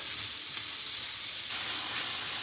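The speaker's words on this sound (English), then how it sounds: "We're going to add in those onions and peppers" Onions and peppers frying in a hot pan give a steady, close sizzle with a bright hiss, swelling a little louder partway through as the vegetables settle into the heat.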